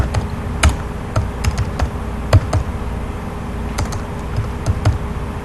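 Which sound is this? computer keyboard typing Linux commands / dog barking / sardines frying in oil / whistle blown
computer keyboard typing Linux commands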